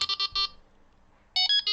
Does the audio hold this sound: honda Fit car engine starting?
no